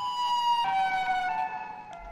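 A Siren Head video game monster's siren-like wail holds steady tones, then shifts pitch partway through, fairly loud and sustained with no voices over it.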